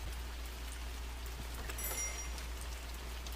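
Rain at night in the horror game The Mortuary Assistant, a faint steady hiss of falling drops over a low constant hum, with a brief higher flicker partway through.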